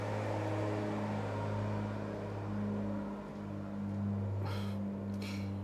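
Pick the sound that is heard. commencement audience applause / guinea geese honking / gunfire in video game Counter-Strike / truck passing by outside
truck passing by outside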